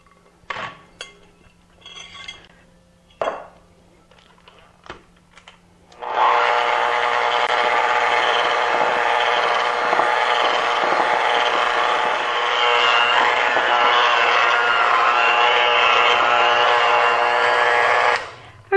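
An electric hand mixer's beaters whir steadily and loudly for about twelve seconds, working a dry mixture into old-fashioned gingerbread batter, after a few scattered clinks and bumps of bowls and utensils.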